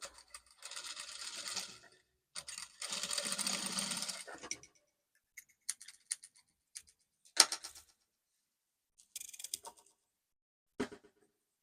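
A sewing machine stitching a lace scallop neckline on a flare bubu dress: two longer bursts of fast mechanical whirring, then a few short clicky runs separated by silence, close and fairly quiet.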